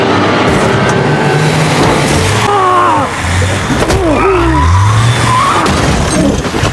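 A car chase in a film, with tires skidding and squealing in several sharp wavering bursts over a loud rumble of engines and crashes.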